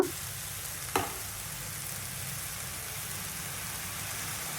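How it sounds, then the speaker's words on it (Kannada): Pumpkin halwa cooking with jaggery in a pan gives off a steady, close sizzle and bubbling hiss, with a soft scrape from stirring near the start and one brief clack about a second in. "ಆಮೇಲೆ ಬೆಲ್ಲ ಹಾಕ್ಕೊಂಡು ಸ್ವಲ್ಪ ಹೀಗೆ ಮಿಕ್ಸ್ ಮಾಡ್ಕೊಳ್ತಾ ಇರಬೇಕು"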